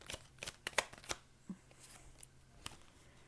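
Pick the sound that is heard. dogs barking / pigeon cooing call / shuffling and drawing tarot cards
shuffling and drawing tarot cards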